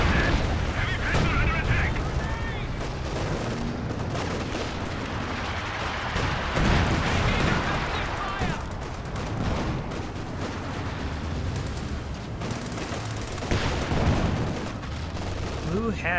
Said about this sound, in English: Artillery raining on in